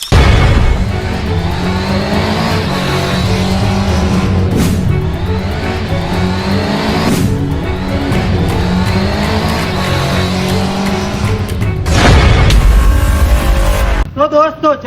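A TVS two-wheeler with rain, urban and sport riding modes accelerates hard. The engine revs loudly and continuously, with rising and falling tones throughout and a brief drop near the end.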